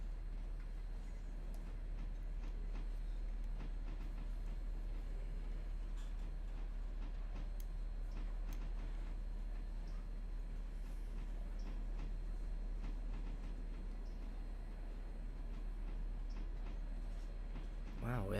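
A video-game locomotive runs on the Whittier & Southern line with a continuous low rumble and scattered metallic clanks and clicks, while a voice talks intermittently over it.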